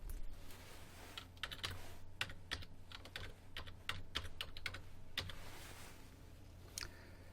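Keys clatter on a computer keyboard as a company name is typed into a text box, a quiet, irregular run of close clicks over a low steady hum.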